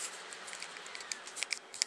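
A drawing tablet pen is slid out of a small plastic bag, giving soft crinkly rustles and a few sharper crackles near the end, close and fairly quiet.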